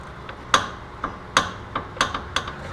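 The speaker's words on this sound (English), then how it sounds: "So I'm going to go ahead and torque it up." Torque wrench ratchets in a series of sharp, close metallic clicks while tightening the upper bolt on an ATV rear wheel bearing, spaced irregularly with no talk.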